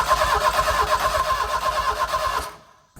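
A rebuilt turbo Ford Ranger engine cranks and chugs up close with a steady pulsing rhythm for a couple of seconds. Then it cuts out abruptly into silence.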